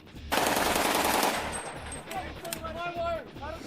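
Rapid burst of M240 machine gun fire with blank rounds, loud and close at first, then fading into scattered distant shots and crackle with faint voices underneath.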